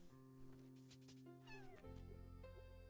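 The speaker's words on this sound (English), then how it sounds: "Cat." A house cat meows in a few drawn-out, rising calls near the middle of the clip, heard close against a steady low hum from a fan or appliance.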